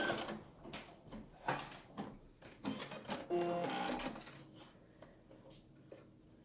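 Sewing machine running short bursts of double stitching on a fabric mask, quiet rapid whirring stitches with pauses and small handling clicks between runs.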